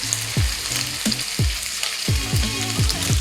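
Bacon with garlic bulbs fries in a pan, a constant close sizzle and crackle with repeated sharp pops and spits scattered across, loud and alone without any talk.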